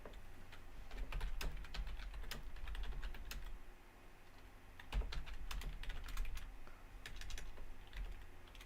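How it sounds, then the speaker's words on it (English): Fast, uneven typing on a computer keyboard, close and fairly quiet, with bursts of key clicks and brief pauses. "That's just me typing."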